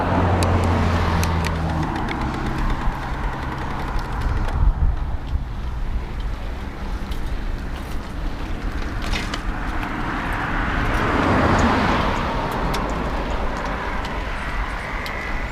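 Busy street traffic rolls past a rider on a BULLS Sturmvogel EVO Street mid-drive e-bike, a steady broadband road roar mixed with wind buffeting on the microphone, swelling as vehicles pass near and far, with no talking.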